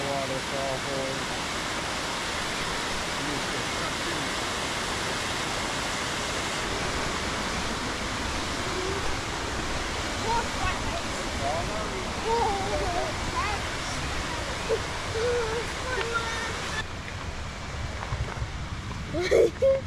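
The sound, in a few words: waterfalls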